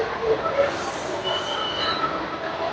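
A metro train runs on its rails with a steady rolling rumble and faint high wheel squeal, heard from inside the carriage, continuous and fairly loud with no talk.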